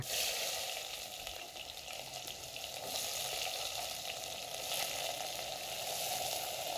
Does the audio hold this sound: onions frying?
yes